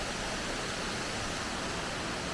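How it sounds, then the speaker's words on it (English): Steady broadband roar of the Stitchil Linn waterfall, a constant even rush of falling water with no breaks, moderately loud and heard on its own without talk. "So that's the waterfall behind me there."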